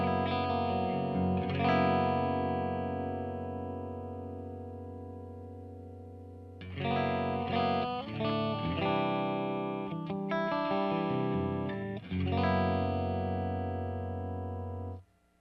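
Electric guitar through a Soldano Astro 20 amp on its clean channel: sustained chords ring out and fade, then a busier run of strummed chords and notes follows, sounding clear with a touch of chorus-like shimmer.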